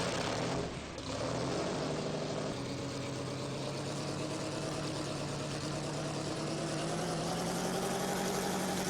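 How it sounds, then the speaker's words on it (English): In the Tank Mechanic video game, a heavy tank engine cranks with a brief dip near the start, then settles into a loud, steady, continuous rumbling idle with no talk. "Oh wow, you actually get the engine crank and everything."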